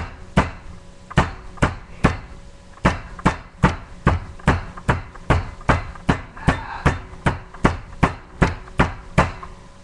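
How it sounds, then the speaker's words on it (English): A meat tenderizer pounding raw steak, about twenty sharp, evenly spaced thuds in a steady rhythm, loud and close, with no talking. "this is good, like I said, to tenderize your meat"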